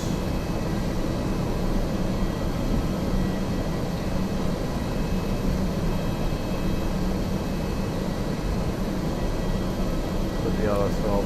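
An Airbus A320 auxiliary power unit in the Prepar3D v5.4 simulator gives off a steady, dense cabin-level hum and whir. It holds constant for the whole stretch, with a faint whine near the end.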